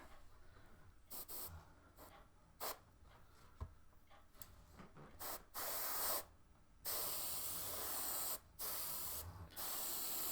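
Airbrush spraying paint onto a Dragon 1/35 M4A3 Sherman tank model, close, quiet hissing bursts of varying length with short pauses between them, building to longer sprays toward the end.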